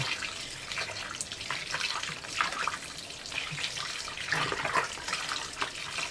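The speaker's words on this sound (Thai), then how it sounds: "ล้างน้ำแป้งออกให้เหลือแต่เยย ดไปล้างไป" Running tap water pours steadily over dough in a sink as the starch is rinsed out, a continuous splashing rush with small surges and sloshes as the dough is worked by hand.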